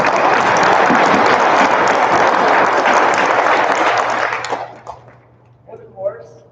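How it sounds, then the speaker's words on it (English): Loud, dense applause and cheering from a crowd at a Greenhand ceremony sustains for about four seconds and then fades quickly, leaving scattered noises and a brief voice. "Let's give these guys a round of applause."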